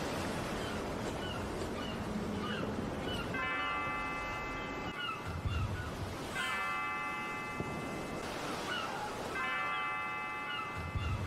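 Bell chimes ring out in a 3D remake of the game Chrono Trigger, several bright tones recurring at intervals over steady ambient game sound.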